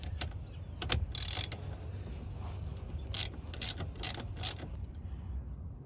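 A socket wrench ratchets off a car's ground bolt in a workshop, a series of close, sharp clicking bursts in short irregular runs over a faint low background hum.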